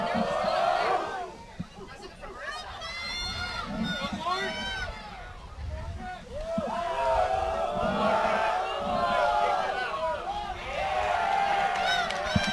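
Cape Coral Bulldogs fans shout and cheer from the stands at a 2012 FHSAA 4A girls soccer championship final, many voices rising and falling in loud waves with overlapping yells.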